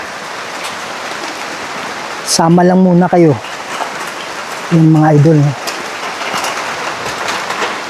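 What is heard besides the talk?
rain falling, noisy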